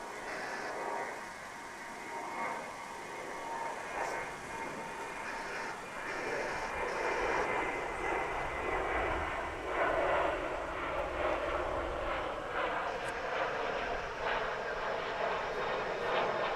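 American Airlines jet taking off at Dallas/Fort Worth International Airport, a broad, sustained engine roar that swells gradually, heard from a distance outdoors.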